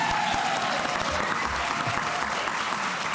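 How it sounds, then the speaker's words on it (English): An audience claps at a live history comedy show, a dense, loud, sustained wash of applause filling the space without a break. "Can we have a round of applause"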